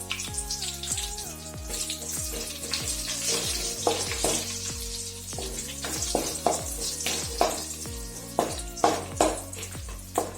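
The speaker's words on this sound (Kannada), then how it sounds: "ಸಾಸಿವೆ ಚೆನ್ನಾಗಿ ಸಿಡಿಬೇಕು. ಈಗ ಬೆಳ್ಳುಳ್ಳಿ ಹಾಕ್ತಿದ್ದೀನಿ" Mustard seeds, garlic cloves and curry leaves with a pinch of asafoetida frying in hot oil for a tempering: crackling sputters and sharp pops burst repeatedly over a bubbling sizzle, with a tonal hum running underneath.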